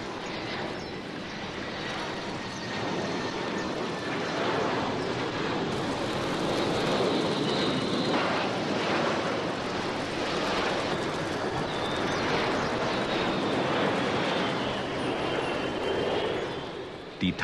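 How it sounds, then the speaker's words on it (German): A loud, low-flying airplane on approach to Hong Kong airport roars over the rooftops of Kowloon Walled City, its engine rumble filling the whole stretch steadily and close, with a faint whine riding on top. "Alle 5 Minuten zieht ein Flugzeug im Tiefflug über die Dächer hinweg"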